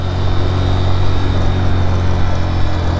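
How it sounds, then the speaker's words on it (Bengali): A motorcycle engine labours in first gear climbing a hill toward Mirik, giving a steady, loud, droning hum with vibration and no clear revving. "দেখছো ফার্স্ট গিয়ার তুলতে হচ্ছে বাইক, তাও কেমন ভাইব্রেট করছে।"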